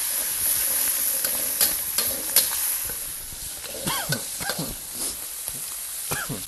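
Close, steady sizzling of Sichuan hot pot base melting in a hot pan, with bursts of crackling and popping and occasional scraping as the contents are stirred.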